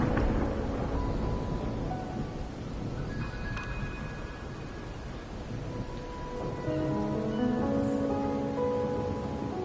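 Steady rain and a low rumble of thunder from a video game storm, a continuous wash of sound at moderate level with faint tonal music-like lines running underneath, no speech.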